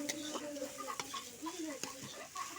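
A utensil stirs cauliflower and potato with ground spices in a pan, scraping and clinking steadily over a soft sizzle, close and fairly quiet, with no talking.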